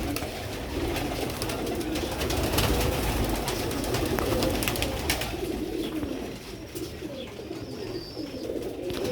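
A pigeon coos close by in a repeated, low, rounded rhythm, its calls running over a busy background of other birds and ambient noise, with no talking.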